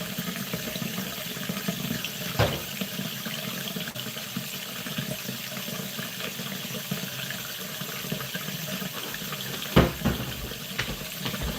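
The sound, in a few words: water running from a bathroom tap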